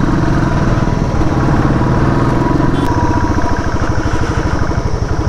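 A motorcycle engine labours in first gear while climbing a rough off-road hill track, producing a loud, close, steady throbbing rumble with a rapid pulsing rhythm throughout.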